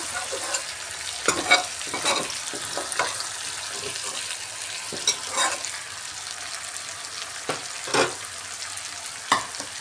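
Prawns sizzle in a pan while being stirred, with a constant frying hiss broken by repeated scraping and clinking strokes of the spatula, close and fairly loud.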